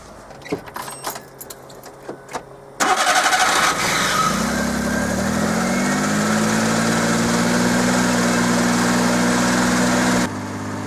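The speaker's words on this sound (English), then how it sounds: "Now I'll start the engine and let it idle until it reaches operating temperature" A Suzuki minitruck engine cranks and catches after a few seconds of key jingling, then settles into a loud, steady idle with a faintly rising tone before a sudden drop near the end.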